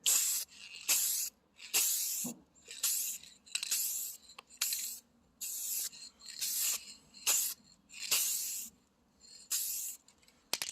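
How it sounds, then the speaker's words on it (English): Repeated bursts of aerosol spray as a spray can lays pearl coat on a Hyundai's peeling paint, about a dozen short hissing passes in a steady rhythm, close and fairly loud with brief silences between. "I have to spray down some pearl"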